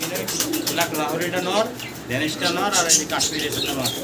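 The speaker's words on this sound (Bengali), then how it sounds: "আমরা ভিডিও স্ক্রিনে এখানে সিঙ্গেল বেশ কিছু কবুতর দেখতে পারতাছি" Pigeons, including Lahori and Kashmiri racers, cooing at a pigeon seller's shop in Bangladesh: repeated close, throaty coos and soft warbles come in overlapping bursts, and a voice is mixed in.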